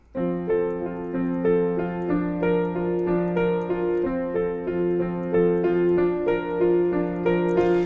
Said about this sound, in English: for my version of the intro, I'm going to be doing a little arpeggio